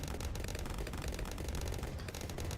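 Carrier flagship in Bloons TD launching missiles, a dense, continuous barrage of rapid firing and blasts that stays loud and steady throughout.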